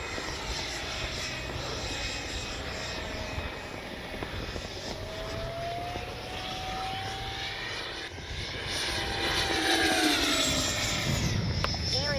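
A Freewing Mirage RC jet aircraft flies past with a steady, whining turbine roar, the pitch sweeping up and down as it moves, growing louder toward the end.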